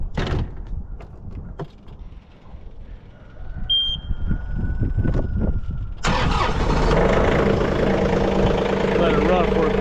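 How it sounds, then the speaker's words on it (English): A tractor engine starts abruptly partway through and settles into a loud, steady idle while warming up, following a stretch of quieter handling noises and a brief high electronic beep. "warm the tractor up."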